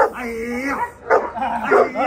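A dog in personal guard protection training barks and yips in short excited bursts with whimpering tones, close and loud, while people talk over it.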